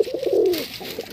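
Madras pigeons coo in a loft, a single close, rolling coo swelling and fading over about a second, with soft, muffled bird calls around it.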